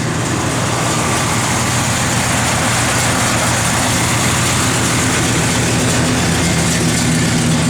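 A 1972 Chevrolet Monte Carlo with a mild cam idles steadily at close range, its low engine rumble loud and continuous, with no voices.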